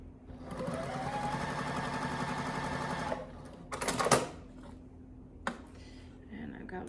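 Sewing machine stitching quilt pieces, a steady fast mechanical whir running for about three seconds, then a couple of short bursts of stitching with brief pauses between, close and fairly loud, with a voice speaking softly alongside.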